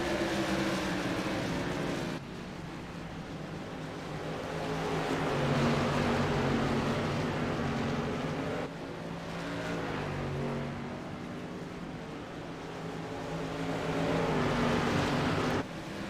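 Modified race cars battle for the lead at Irwindale Speedway, a steady loud roar of engines with rising and falling surges as cars pass, continuous throughout with no talk.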